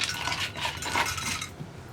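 Washed lentils (parippu) poured into a pressure cooker, a wet, clattering rattle of grains and metal for about a second and a half, close and fairly soft.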